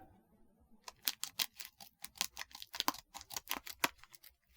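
Scissors cutting the corner off a plastic packet of slime activator, a close, crisp run of about a dozen rhythmic snips after a quiet start.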